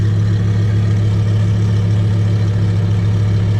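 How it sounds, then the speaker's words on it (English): A Lamborghini Aventador SV Roadster idles with an unusual aftermarket exhaust, a steady, loud, low droning rumble with no revving and no talk. "That's the craziest exhaust I think I've ever seen in my life."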